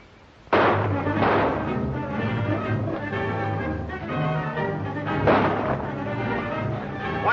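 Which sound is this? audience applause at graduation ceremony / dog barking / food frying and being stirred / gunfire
gunfire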